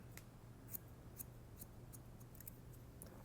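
Barber's scissors snip through sections of hair on the top of the head with quick, crisp cuts close to the microphone. The soft clicks come in an irregular rhythm over a quiet background.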